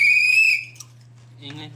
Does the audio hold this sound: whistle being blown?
yes